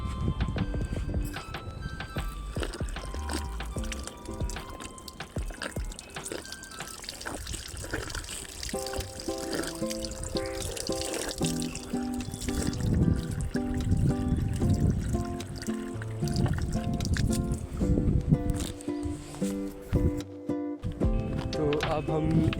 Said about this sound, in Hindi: तो आ गए अभी पानी पीने, अभी पानी पीते हैं